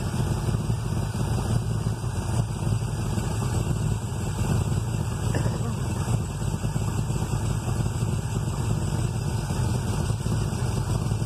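A marine engine with a Quadrajet carburetor runs steadily during a mixture adjustment, giving a constant loud mechanical drone and rumble close by, with no pauses or voices.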